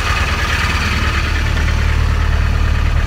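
A 1988 Land Rover Defender 90 engine idling, a steady low rumbling throb with an even mechanical chug heard up close and loud, continuing without voices for the whole stretch.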